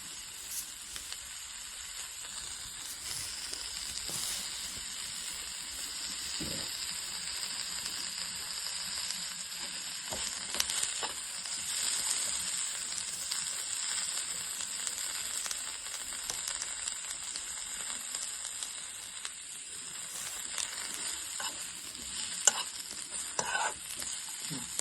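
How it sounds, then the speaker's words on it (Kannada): Brahmi leaves with garlic and cumin powder frying in a pan, a quiet continuous sizzle with intermittent scraping clinks of a spoon stirring, close and steady for the whole stretch. "ಎಲ್ಲವನ್ನು ನೀಟಾಗಿ ಮಿಕ್ಸ್ ಮಾಡಿ ಸ್ವಲ್ಪ ಹೊತ್ತು ಫ್ರೈ ಮಾಡಿ"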